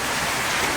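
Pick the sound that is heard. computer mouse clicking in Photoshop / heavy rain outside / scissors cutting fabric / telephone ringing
heavy rain outside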